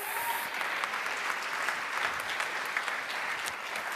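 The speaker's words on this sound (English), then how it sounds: "A round of applause." A large audience applauds during a forum closing ceremony, giving a dense, steady wash of clapping that runs throughout at moderate volume.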